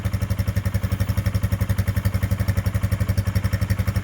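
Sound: carburetted engine idling on choke after hard cold start

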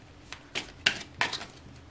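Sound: shuffling cards

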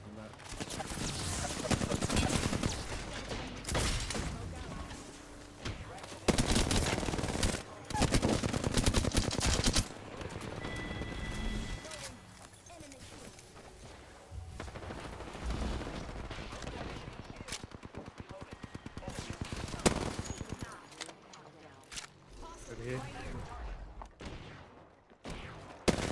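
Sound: gunfire in the video game Apex Legends

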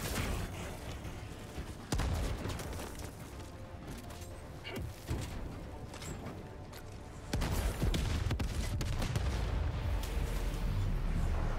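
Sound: grenade explosion in the video game Helldivers 2

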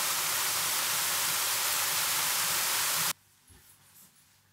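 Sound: mountain water running down

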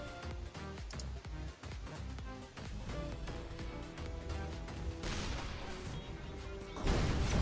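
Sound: fireworks weapon exploding in video game ShellShock Live

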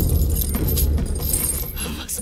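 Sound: keys jangling as they are handed over

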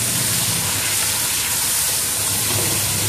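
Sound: sizzling of tomato paste being fried with chicken and chana dal

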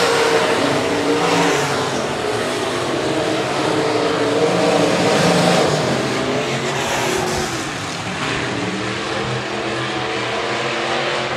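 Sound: B-Modified race cars racing on a speedway, final lap

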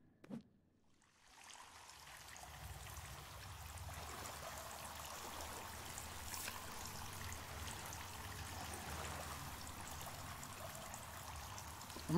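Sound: waterfall in a video game cave

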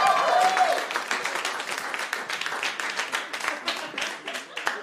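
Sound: audience applause and cheering

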